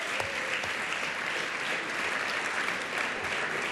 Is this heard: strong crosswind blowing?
no